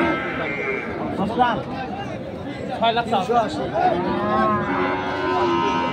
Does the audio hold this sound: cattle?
yes